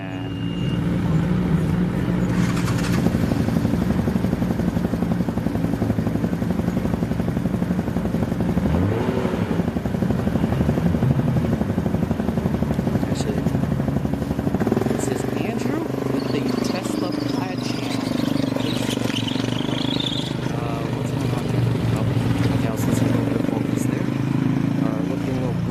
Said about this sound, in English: another Mark IV Supra and what looks like